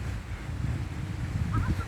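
Ducks calling outdoors near Antalya, a few short nasal quacks and honks breaking through toward the end over steady low wind rumble on the microphone.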